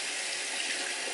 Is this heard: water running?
yes